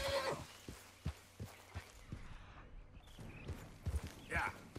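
A horse in the Red Dead Redemption video game walks with slow, evenly spaced hoof thuds and gives a short whinny, fairly close and moderately quiet, with some talk around it.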